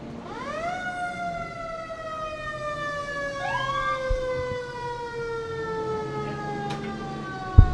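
Newport Fire Department fire engine sirens wail in rising and falling sweeps, a second siren joining partway through, loud and sustained against a ballpark backdrop.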